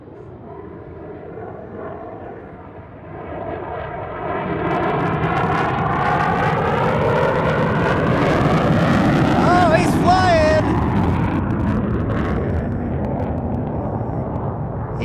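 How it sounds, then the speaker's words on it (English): F-16 Viper fighter jets at Tucson airport swell from a distant rumble into a loud, sustained roar that sweeps past and slowly fades, with people talking over it. "Oh, more F-16s. Here we go."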